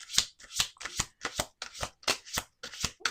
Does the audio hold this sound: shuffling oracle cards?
yes